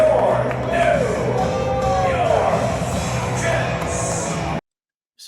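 Crowd at a New York Jets football game cheering and shouting, a dense roar with whoops and voices rising over it, loud and steady until it cuts off abruptly near the end.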